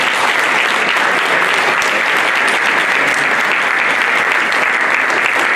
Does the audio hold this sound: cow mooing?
no